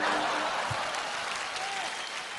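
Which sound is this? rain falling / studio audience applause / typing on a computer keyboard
studio audience applause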